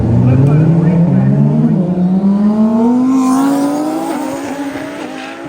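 Roll racing cars' engines roar and climb in pitch as they accelerate, loud and close, with a crowd or announcer murmur faintly beneath.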